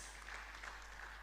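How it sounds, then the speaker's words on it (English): Audience applause at a university convocation lecture ceremony, a faint, steady wash of clapping from a distant crowd with a low hum underneath. "A round of applause, please"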